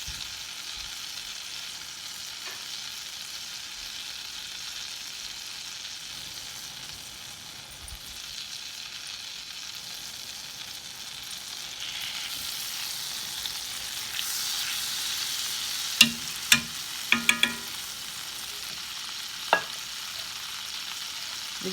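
Half a stick of butter melts and sizzles in a pan for Swedish meatball sauce, a steady soft frying hiss with a few sharp clicks and taps near the end, no talking.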